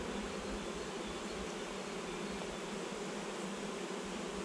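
Dense, steady buzzing of a honey bee swarm in April around a hive, a continuous loud drone from many bees up close with no pauses and no voices.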